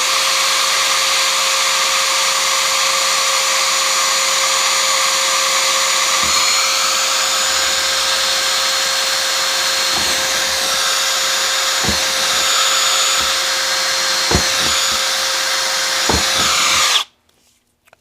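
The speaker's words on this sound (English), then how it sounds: "I drill a hole." Power drill boring a hole, a loud steady motor whine held for about seventeen seconds with a few brief knocks, then cutting off abruptly into near silence.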